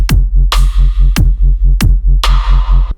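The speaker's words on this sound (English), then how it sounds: "So the first patch is just simply a sub" A deep, smooth sine-wave sub bass made in Ableton Live's Operator pulsing in a steady halftime rhythm, with punchy kick drums and snare hits driving the beat.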